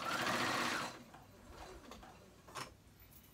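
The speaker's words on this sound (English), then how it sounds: "So I'm sewing that on." A sewing machine stitches a patch onto the outer hood of a hoodie, a fast mechanical whirr for about a second, then it stops and a few quieter clicks and handling sounds follow.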